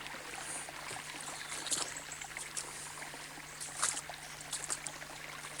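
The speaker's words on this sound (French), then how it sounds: "C'est quand même exceptionnel d'avoir un ruisseau à écrevisses." A small stream that holds crayfish trickles and gurgles softly and continuously, with occasional brighter splashes. It is fairly faint, with a low steady hum underneath and no talking.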